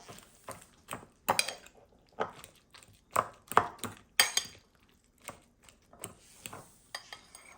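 Roasted eggplant being mashed for Fiji-style baigan choka, a series of soft squishing presses and utensil clinks against a bowl, irregular and close, with quiet gaps between strokes.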